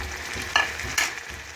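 Potatoes and cauliflower stir-frying in a pan, a low steady sizzle broken by two brief scraping stirs.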